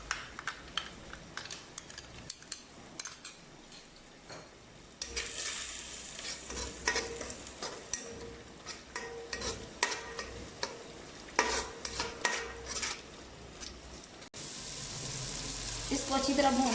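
Ginger garlic paste with turmeric and spices frying and stirred in a pan for chicken biryani: irregular scraping stir strokes over a soft sizzle, turning to a louder steady hiss near the end, with someone talking at times.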